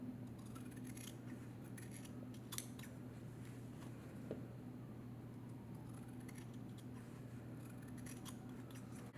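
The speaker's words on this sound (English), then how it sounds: "I usually cut my felt a little bit longer" Scissors trim a piece of felt in a quiet room, soft, faint snips and rustles scattered over a steady low hum.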